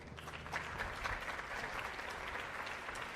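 Audience applauding at a March-a-then live-streamed performance, a steady dense wash of clapping from a crowd that holds level throughout, moderately distant with no voices.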